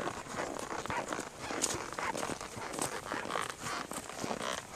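A horse walks through an upper pasture while being ridden, its hooves making soft, steady clip-clop footfalls that sit under a constant outdoor hiss.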